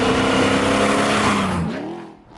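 An MG BGT V8 drives past close by with a loud engine roar that drops in pitch and fades over about two seconds.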